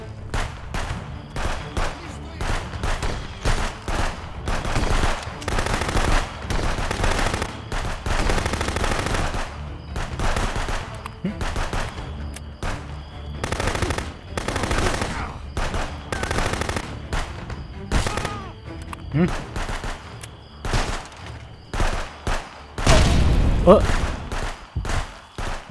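Pistol fire in the video game Contraband Police comes in dense, loud, rapid bursts with brief pauses over a long stretch, while people shout and talk over the shooting.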